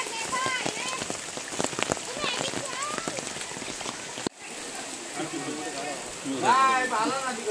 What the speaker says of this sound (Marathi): पाऊस पडतोय नुसता.